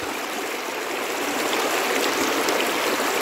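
A flowing stream of water rushes steadily and evenly, close by, alone with no voices.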